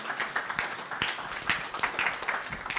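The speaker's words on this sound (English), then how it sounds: "I promise there will be no more claps" An audience applauds at the close of a hybrid evening event, a steady patter of many hands clapping at moderate volume, with no speech over it.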